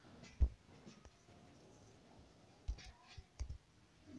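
A computer mouse clicks on a website option: three or four soft, sharp clicks, spaced irregularly, over a quiet background.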